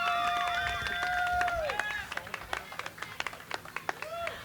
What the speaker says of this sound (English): Let's give her a big round of applause as she comes up.